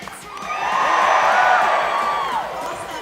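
A large rally crowd in Chicago roars and cheers, a loud, sustained swell of many voices with whoops rising and fading, and a rhythmic thumping underneath.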